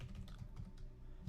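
Quick, close clicks of typing on a computer keyboard as a search term is entered, a brief rapid run of keystrokes with no one talking.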